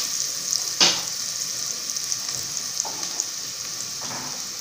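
A whole chicken fries in a pot with onions and spices, a continuous bright sizzle with a sharper crackle as it goes in and occasional stirring clatter, close by.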